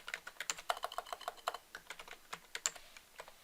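Close, quick typing on a computer keyboard while writing Blazor component code, with a rapid, uneven run of crisp keystrokes and no voice.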